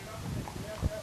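Horses' hooves clip-clop along a Memorial Day parade route, a few distinct thuds close by, the last one the loudest, over a background of crowd voices.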